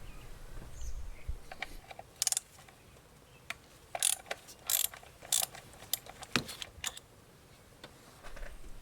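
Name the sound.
ratchet with 10mm socket unscrewing coil bolt on Toyota Corolla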